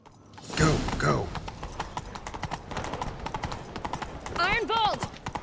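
Rapid hoofbeats of a galloping horse in The Witcher 3: Wild Hunt clatter under excited voices, with a horse whinnying near the end.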